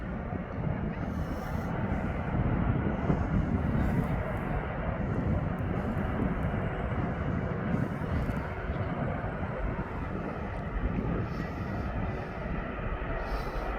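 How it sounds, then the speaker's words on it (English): A Ryanair jet bound for Lisbon moves out after pushback at Birmingham Airport, a low, steady engine rumble heard from a distance with light wind noise throughout. "Then we got the Ryanair to Lisbon going out."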